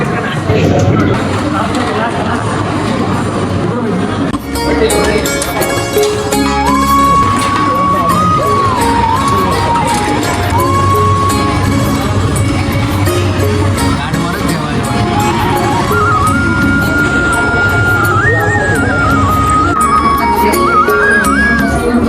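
A dense crowd seated for a meal at a temple dining hall: loud, constant babble of many voices with clatter and movement, some nearby talk and a faint tonal sound drifting through, with no pause.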